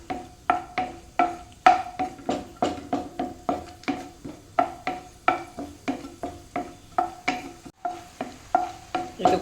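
Sunflower seeds dry-roasting in a pan, stirred for a village-style jackfruit seed laddu, give a steady run of rhythmic scraping strokes, about two per second, close and clear with a faint crackle and no talk.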